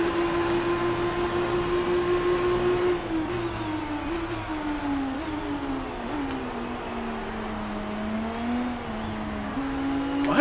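Formula One race car engines in a racing video game, a sustained high whine that shifts pitch through gear changes and revs, with other cars' engines layered underneath and no voices.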